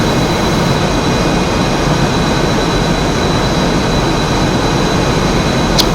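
F/A-18E Super Hornet jet engine roaring in afterburner during a 15-degree takeoff in a flight simulator game, flaps and gear up; a loud, steady, unbroken jet roar fills the whole stretch with no talk.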